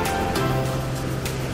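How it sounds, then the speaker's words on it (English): Steady rushing surf of rough waves on a white-sand beach on Nusa Lembongan, Bali, fills the scene, a continuous broad wash with a few louder surges breaking through, no voices. "But maybe not for swimming, as the waves are quite rough."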